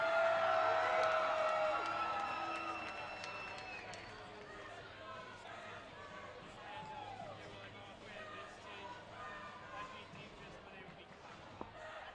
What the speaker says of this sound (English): Got a cheer going up from the front straightaway